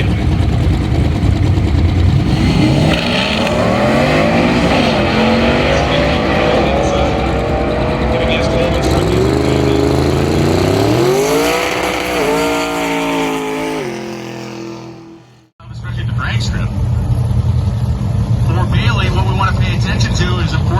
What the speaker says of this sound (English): And Eric Grillo coming up right now, the 1972 Nova.